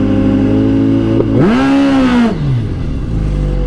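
A 2022 Suzuki Hayabusa launches at a quarter-mile drag strip. The loud, close engine holds a steady drone at around 3,300 RPM, then surges into a sharp rising rev and falls away again.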